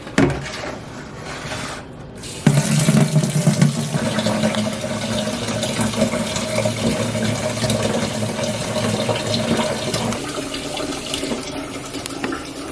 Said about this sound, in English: now the water is being filled in this watering can